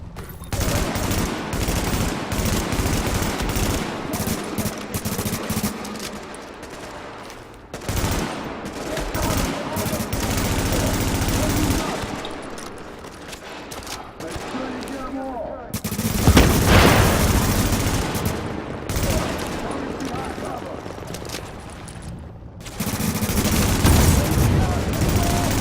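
Sustained automatic gunfire from an enemy turret in The Division, rattling in dense bursts with short pauses, loud and close amid game sounds and occasional talk.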